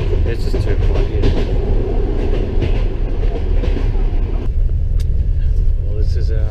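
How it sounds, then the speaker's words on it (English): An overnight train in motion on the Bukhara to Tashkent route in Uzbekistan, with a steady loud rumble and rattle of the carriage and faint clatter, heard from inside with the window open, with a shift in the noise partway through. "this is our second overnight train in a row"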